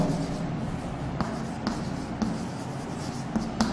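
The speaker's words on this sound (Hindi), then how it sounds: "तो इसको लिखेंगे भी हम लोग" Chalk or marker writing on a board during a Hindi-language physics lecture on capacitors, a few short scratchy strokes and taps at a steady pace, close but soft over a quiet room hum.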